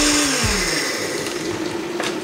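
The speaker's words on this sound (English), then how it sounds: "we're going to throw all this in the blender and blend it up" A blender purees kale, tomato and garlic, whirring loud and close with a falling pitch as the load thickens, then holding a steady grinding drone.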